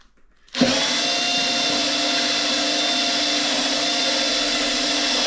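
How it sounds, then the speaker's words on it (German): A power drill boring a hole for a tailgate light in a VW T5 Multivan camper conversion starts abruptly and runs at a steady, loud, high whine close by. "Da bohren wir jetzt mal rein. Ich mache da jetzt ein Loch rein"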